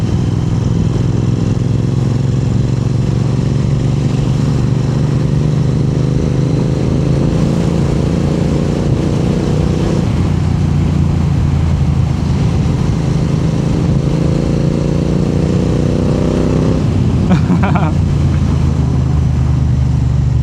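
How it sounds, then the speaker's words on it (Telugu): Royal Enfield Interceptor 650 fitted with a Red Rooster exhaust, recorded while riding: a steady, loud twin-cylinder exhaust drone throughout, with a gear change and throttle blips shifting the pitch around ten and seventeen seconds, no speech. "ఎగ్జాస్ట్ సౌండ్ వినండి ప్రశాంతంగా కూర్చొని."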